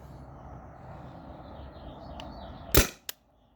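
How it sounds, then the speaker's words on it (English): A Byrna TCR launcher modded for HPA on a remote line fires a single ball with one sharp, loud crack and a fainter second snap just after, following a quiet stretch of low background noise. "I'm gonna shoot this last round that fell out of the 12 round magazine"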